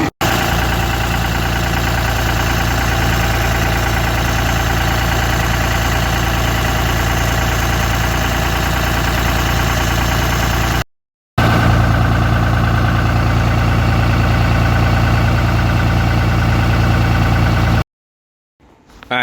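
A 2013 Cummins diesel engine idles loud and steady at close range, a continuous low drone that cuts out briefly twice.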